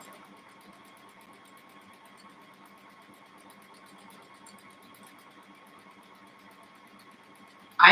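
A sewing machine stitching a jelly roll race quilt, a steady close mechanical whir and hum running evenly throughout, ending with a sudden loud burst at the very end.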